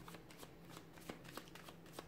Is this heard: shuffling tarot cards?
yes